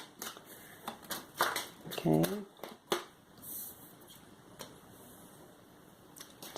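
Tarot cards are shuffled by hand in short, crisp riffling bursts and taps, quiet and close, with a soft spoken word in between.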